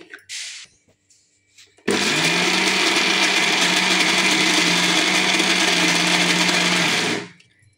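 A mixer grinder churns cream into homemade butter with no water added. After a few quiet seconds it starts abruptly into a loud, steady whir that holds for about five seconds, then cuts off.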